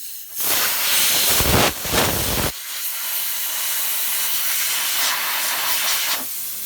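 Loud compressed air from a builder's nozzle hisses close by, blowing dust out of a gap. There are a couple of sharp opening bursts, then a long steady blast with no voices.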